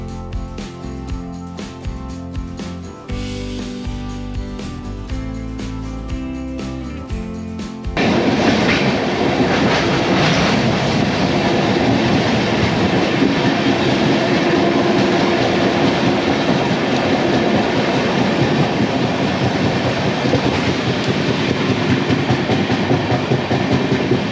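22701 UDAY Express double-decker train running on rails between Visakhapatnam and Vijayawada, a steady loud rumble with rhythmic clickety-clack of wheels, continuous and close throughout after an opening stretch of music.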